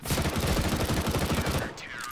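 A rapid burst of automatic gunfire from a CS:GO match rattles on loud and close for almost two seconds, then cuts off into a brief quieter tail.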